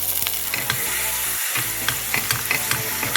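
Sweet Italian sausage fries in a tablespoon of olive oil, a dense close sizzle with rapid crackling pops and a brief dip in the middle.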